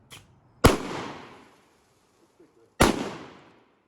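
A 12 gauge double-barrel shotgun fires two loud, close shots a couple of seconds apart, each a sharp blast with a short ringing decay, with quiet between them.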